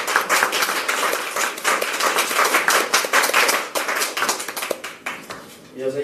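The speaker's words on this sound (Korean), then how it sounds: "박수로 환영합니다." Crowd applause with dense, steady hand clapping welcoming Kim Young-joo, Deputy Speaker of the National Assembly, at a People Power Party joining ceremony; loud and sustained, fading slightly near the end.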